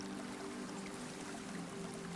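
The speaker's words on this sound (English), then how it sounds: "replaced by quiet flowing water." Quiet water flows steadily through shallow stone pools inside a pavilion with a ceiling of pale arches, a soft, even trickle with a low hum beneath, and no voices.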